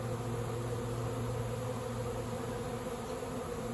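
A massive honeybee swarm of over 70,000 bees clustered on a large stack of boxes, giving a steady, dense buzzing drone that stays even and close throughout, with no talk.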